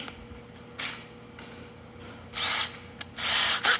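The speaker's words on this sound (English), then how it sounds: "And then I'm gonna get my drill, because that's actually kind of hard." Power drill boring into a custom pinball spotlight part: short bursts of high, gritty whirring, the last two longer and louder, separated by quiet pauses.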